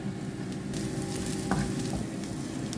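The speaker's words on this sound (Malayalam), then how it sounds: "അതിനുശേഷം കുറച്ച് മുളക് പൊടി ഇട്ട് നന്നായി വഴറ്റുക" A mixture being sautéed in a pan with turmeric and chilli powder for a dried prawn dish, giving a steady sizzle with stirring scrapes, close and continuous.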